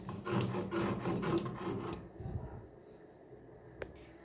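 Hog plums being ground into a paste for bharta on a stone, a rough rasping scrape repeating in strokes for about two seconds, then fading to quieter rubbing and near silence with one small knock.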